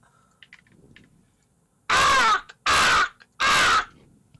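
A human voice imitates a crow, giving three loud, harsh caws in an even rhythm after a quiet pause, each call close and forceful.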